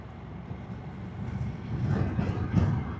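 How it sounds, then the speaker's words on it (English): A 2026 Honda NC750X ridden two-up makes a third-gear roll-on downhill, its low engine drone and wind rumble swelling louder over a few seconds. "So, as usual, the 3rd gear roll on down the hill."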